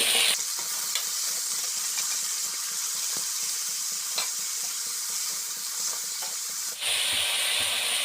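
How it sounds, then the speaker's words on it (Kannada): Oil sizzles steadily as field beans (avarekalu) fry in a tempering in a pan, with occasional scraping stirs and a brief dip near the end. "ಈಗ ಇದಕ್ಕಿರೋ ಅವರೆಕಾಳನ್ನ ಒಗ್ಗರಣೆಗೆ ಹಾಕ್ಬಿಟ್ಟು ಚೆನ್ನಾಗಿ ಫ್ರೈ ಮಾಡ್ಕೋಬೇಕು"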